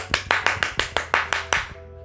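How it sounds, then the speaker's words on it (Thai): Hands clapping in a slow, even rhythm, about nine sharp claps close by, then a short tone. "ปรบมือสิคะรออะไรปรบเป็นกำลังใจให้ตัวเราเองนะคะ"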